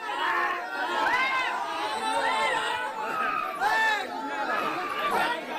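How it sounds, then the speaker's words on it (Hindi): People gathered at a crowded vaccination centre raise a loud uproar, many overlapping shouting and arguing voices forming a dense, agitated crowd clamour that swells and dips throughout. "वैक्सीनेशन केंद्र पर टीका लगवाने आए लोगों ने जोरदार हंगामा किया"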